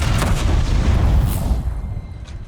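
A heavy Oseram cannon in Horizon Zero Dawn fires a dense, booming blast that rumbles loudly and sustains across the moment before slowly fading.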